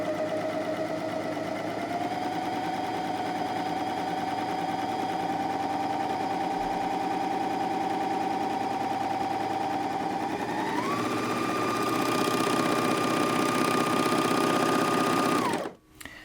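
A Janome MyLock 454D overlocker runs continuously while sewing a pintuck on a folded edge with the blade disengaged. The whir is loud and even, rises slightly in speed partway through, then stops abruptly near the end.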